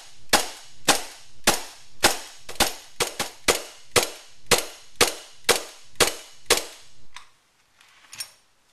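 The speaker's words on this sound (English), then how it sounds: "I'm going to hold the slide lock down just so you can see the slide action repeated" The slide of a WELL 1911 Hi-Capa airsoft pistol cycling with an empty magazine, about fifteen sharp, loud snaps in a steady rhythm, then a pause and a few fainter clicks.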